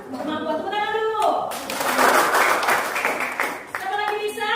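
Classroom clapping from a group of students, a dense burst of hand claps rising after a voice and lasting a few seconds, with speech before and after.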